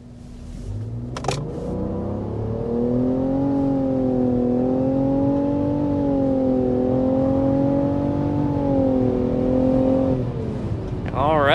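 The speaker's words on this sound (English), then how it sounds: "let's get a hard acceleration" A 2023 Nissan Rogue Midnight Edition under hard acceleration, with a brief clunk before the engine note climbs and holds a strained, steady whine for several seconds, then eases off near the end.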